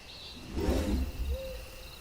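An owl hoots once in a dark forest at night, a soft, low, close call over quiet background hiss.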